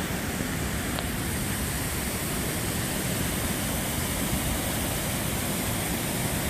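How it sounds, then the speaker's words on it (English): A steady, broad rush of falling water from a waterfall at Salt Springs, Pennsylvania fills the scene, constant and even throughout with no other sounds. "And that's the third waterfall here."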